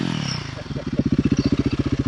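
A Royal Enfield Guerrilla 450 motorcycle engine idles, then revs up into a loud, close, rapid pulsing throb that holds steady for a couple of seconds.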